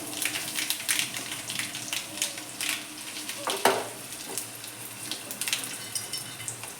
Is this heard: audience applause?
no